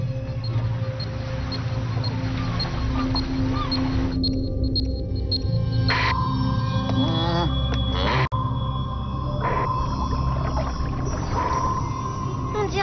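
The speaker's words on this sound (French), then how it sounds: "Je lance le cri du cachalot. Je fais super bien un cri du cachalot." Sperm whale call in a video game, sustained sonar-like clicks and tonal calls over a constant underwater hum, with brief sharp bursts and a few louder pulses.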